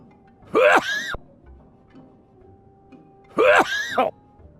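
A character in the adventure game The Night of the Rabbit sneezes twice, each a loud, close, throaty burst separated by a few seconds of near silence with a faint background hum.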